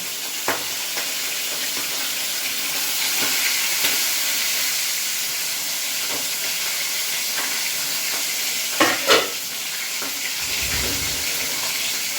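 Food fries in an open pan while cooking for a picnic, a steady broad sizzle with scattered sharp pops and sputters, loud and close, with no talk.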